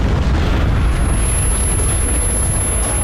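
An explosive barrel blowing up in the video game Metro Last Light Redux, a loud, dense blast that sustains as a steady roar for about three seconds.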